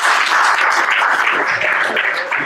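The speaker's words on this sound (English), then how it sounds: "give him a round of applause." An audience at a darts event applauds a world champion, dense and loud clapping that holds steady for a couple of seconds with no speech.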